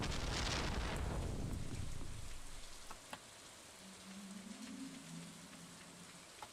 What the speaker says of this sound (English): Oh, I love the rainy nights.